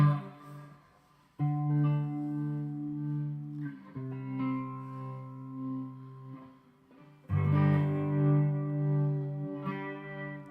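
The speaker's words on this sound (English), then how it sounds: "we can check out the tremolo" Electric guitar played through a Keeley Hydra tremolo pedal, sustained chords and notes pulsing in rhythmic tremolo waves with a brief gap between phrases, loud and close with no voices.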